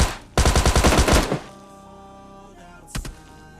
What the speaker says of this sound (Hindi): इसका टीममेट भाई मेरे पे फायरिंग कर रहा था।